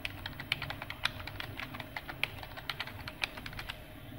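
Rapid keyboard typing as a new Wi-Fi password is entered on a TP-Link router settings page, a steady run of close, crisp key clicks with a few sharper taps, no talking.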